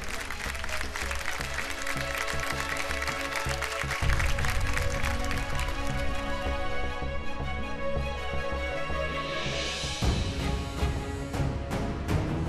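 Audience applause welcoming guests onto a television drama set, steady clapping that stays continuous throughout, mixed with background music.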